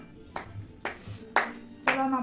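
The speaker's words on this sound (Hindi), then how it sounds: "बेटा ताली बजाना बंद कर दो।" A child claps hands at a family anniversary celebration, four separate sharp claps spaced about half a second apart, with faint voices in the background.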